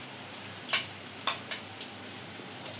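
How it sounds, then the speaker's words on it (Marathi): Dried Bombay duck fish sautés in oil with onion and tomato, giving a soft continuous sizzle with a few sharp scraping stirs of a spoon against the pan, and no one speaking. "आता हे बोंबील आपण तेलामध्ये कांद्याच्या तेलामध्ये चांगलं परतून घेणार आहे"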